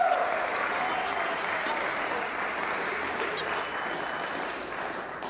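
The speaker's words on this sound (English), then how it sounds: "Now we can clap." A concert audience at a college choir and orchestra performance claps in a sustained, even wash of applause that fades slightly toward the end, with no talk over it.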